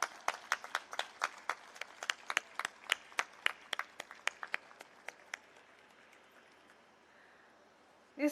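Audience applause at a yoga programme in a township hall: a run of sharp, separate claps from a small group, loud and close at first, then thinning out and fading to a quiet room before a brief louder sound at the end.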